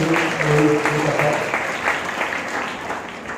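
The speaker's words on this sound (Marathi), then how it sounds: "सर्व टीचरसाठी थोडं जोरदार टाळ्या वाजवल्या" Audience applause for teachers at an MKCL prize distribution ceremony, a dense steady clapping from a crowd in a hall, loud throughout and fading slightly toward the end.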